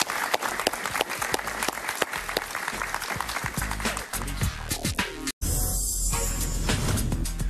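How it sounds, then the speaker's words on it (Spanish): Studio audience applause on a television interview talk show, sustained energetic clapping with a brief cut near the end before the clapping continues. "Un aplauso para él, por favor."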